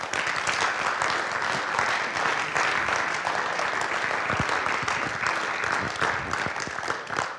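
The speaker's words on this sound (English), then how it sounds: "Give them a round of applause, guys." Players, families and guests at a 2020 football banquet give a steady round of applause, a thick continuous patter of many hands clapping in a room, holding level throughout with no speech.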